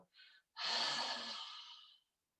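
Breathy exhales through cupped hands during a chair yoga session, a short puff followed by a long, loud, airy whoosh that fades out, close to the ear with no talking.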